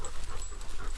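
Three big dogs pant rapidly and continuously close by during a walk on Totley Moor, a quick breathy rhythm filling the whole moment.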